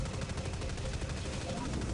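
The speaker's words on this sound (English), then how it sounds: "Someone's shooting me" Rapid gunfire in the video game Dust 514, a dense stream of loud, close shots rattling continuously for a couple of seconds.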